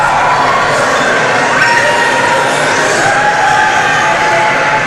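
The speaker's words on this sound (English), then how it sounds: "King got a nice reception from his home crowd" A home crowd roars through a wrestler's entrance at a live wrestling show, a dense, steady wash of cheering and shouting that holds at full loudness from start to finish.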